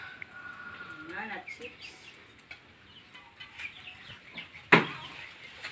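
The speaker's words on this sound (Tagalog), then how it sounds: "Merong sisiw guys na" Chicks and chickens cluck and peep faintly nearby while a person talks quietly, and one sharp, louder bird call rings out near the end.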